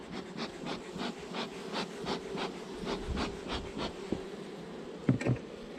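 A steady insect drone of many honeybees at an opened hive fills the clip, with a low hum and faint rhythmic rasping; a couple of sharp knocks near the end.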